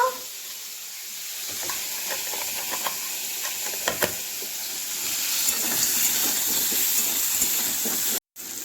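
Cumin seeds and dry red chilies temper in hot oil with a close, crackling sizzle that swells gradually, scattered pops throughout and a momentary dropout near the end.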